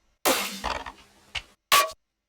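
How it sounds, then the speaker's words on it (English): Two layered snare drum samples in a hyperpop beat, a few sharp, bright hits with short decaying tails and gaps between them, close and fairly loud, no talking. "I layered those two snares"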